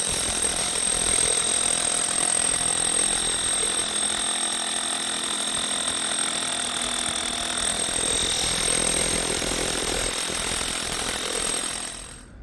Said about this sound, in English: get the core drill.